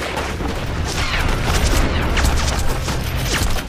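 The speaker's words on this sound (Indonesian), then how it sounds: "King Long meledakkan bom yang membuat kedua kubu Xuanwu yang terpisah tadi panik, salah paham, dan saling menembak" Bomb blast and exchange of gunfire in a film battle scene, a dense, continuous barrage of shots and booms throughout, loud and close with no speech.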